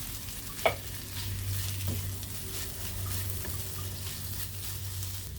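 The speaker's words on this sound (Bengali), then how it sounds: "শুধু ডিমটা দিয়ে আমি ভালোভাবে ভেজে নিব" Taro stir-fry with egg frying in a pan gives a steady, even sizzle throughout, with one sharp utensil clink near the start and faint stirring scrapes afterward.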